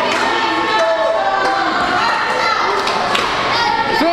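Crowd at an online wrestling event cheering steadily under loud commentary, with thuds from the ring and occasional shouts breaking through.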